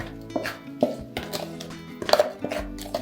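Mustard powder being stirred with salt and sugar in a bowl, giving irregular clinks and scrapes of a utensil against the dish with a few sharper knocks, close and fairly quiet.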